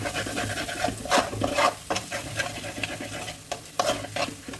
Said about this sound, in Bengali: এবার ভালোভাবে আমি মশলাটাকে কষিয়ে নেব